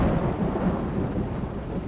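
In the video game Road 96, heavy rain pours steadily and a deep rumble of thunder rolls beneath it, loud and close, with no speech.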